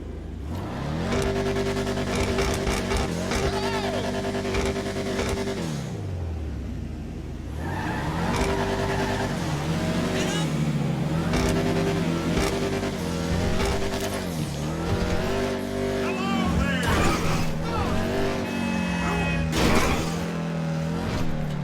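In the GTA 5 video game, the Dominator GTX, an American muscle car, revs and accelerates with a loud engine roar through repeated gear shifts, with tire squeal and skidding, close and sustained, without talk.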